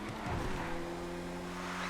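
Engine of the Neo car driving in GTA, a steady mid-pitched motor drone with a brief rough surge at the start, fairly loud and continuous with no talk.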